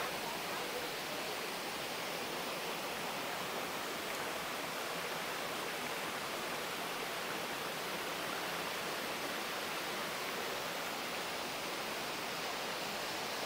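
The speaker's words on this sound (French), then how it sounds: "Voici la 5e cascade." A waterfall, the fifth cascade along a steep hiking trail, gives off a steady, dense broadband rush that continues unbroken and fairly close for the whole stretch.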